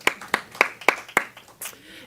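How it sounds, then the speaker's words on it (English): Hand claps from a church service audience: about five sharp, evenly spaced claps close by, then a softer trailing clap as the sound dies away. "Let's give them both a round of applause"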